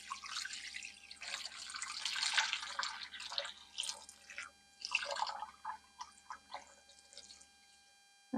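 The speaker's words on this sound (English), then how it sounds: "I've got some beef broth here. I'm just going to add this right in." Beef broth pours into a pot at home for a spicy slow-cooked dinner, making soft splashing and trickling sounds in uneven bursts that taper off into scattered drips.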